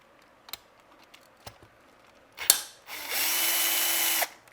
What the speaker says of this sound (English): I can just unscrew these and it should stay pretty close to in place